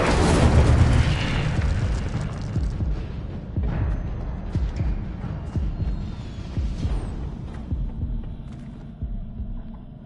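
An Incendio fire spell explodes in Hogwarts Legacy with a loud booming burst at the start, then rumbling, throbbing impacts and crackles that fade away over several seconds.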